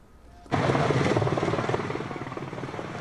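Military helicopters arrive with a sudden loud onset of rotor chop and engine roar, close by and sustained, slowly easing in level as they move along a blocked road being cleared by soldiers and police.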